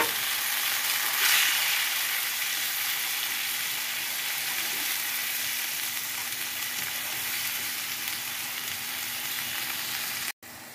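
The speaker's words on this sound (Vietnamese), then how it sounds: "Bắt tỏi lên mình phi cà chua trước nha các bạn." Minced tomatoes and garlic fry in a hot pan, a steady loud sizzle that continues evenly throughout with no talking, ending with an abrupt cut near the close.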